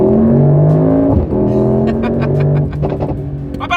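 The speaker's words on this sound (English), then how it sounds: "There's pops on the exhaust note." A Mercedes-AMG GT 55 coupe from 2024 accelerates hard up through its revs with a loud, close engine roar, and a few sharp exhaust pops crackle as the throttle eases, the engine note dropping and rising again.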